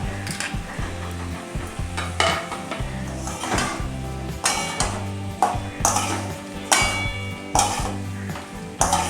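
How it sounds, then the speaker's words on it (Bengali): A spice mix of cumin and chili is stirred in hot oil in a pan. The spatula scrapes loudly and rhythmically against the pan while the oil sizzles throughout. "মশলা কিছুক্ষণ তেলের মধ্যে নেড়ে চেড়ে"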